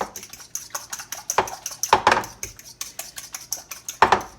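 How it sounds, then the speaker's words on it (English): Eggs being whisked with hot sauce in a bowl for a spicy fried chicken coating, an irregular run of close utensil clinks and scrapes against the bowl, with sharper taps now and then. "Mix these eggs up here. Get them mixed really good with the hot sauce."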